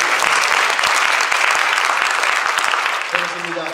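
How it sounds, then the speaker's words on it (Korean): A church congregation applauds during a sermon, dense sustained clapping filling the room at steady loudness, then easing slightly near the end as a voice begins to speak over it. "우리 하나님께 영광의 박수를 드립니다."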